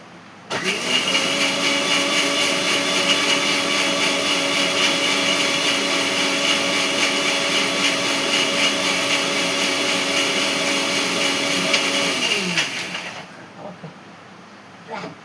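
A kitchen mixer grinder whirs steadily while grinding dry coconut with poppy seeds, running loud and continuous for about twelve seconds before winding down and stopping.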